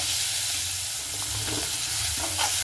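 Steady, close sizzling of broad beans frying in hot oil, with occasional stirring scrapes; no voices.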